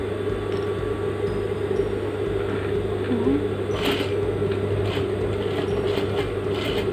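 A sewing machine runs steadily while stitching an inverted L-shaped seam on a jacket welt pocket, making a low mechanical drone with a faint hum, broken by a few sharp clicks and taps near the end.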